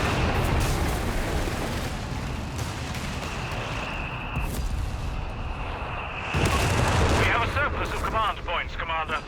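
Mortar half-track and other weapons firing in a Company of Heroes 3 battle, dense rumbling booms and gunfire over a continuous loud battle din, with a voice talking partway through.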